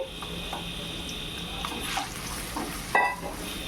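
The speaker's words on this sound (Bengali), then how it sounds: "এবার এই তেলের মধ্যে আমি এই পেঁয়াজ কুচিগুলো দিয়ে দেব। পেঁয়াজ কুচি একটু লাল লাল করে ভাজতে হবে।" Chopped onions sizzle in hot oil in a wok with a steady, close frying hiss, broken by a few stirring scrapes and a sharper clatter near the end.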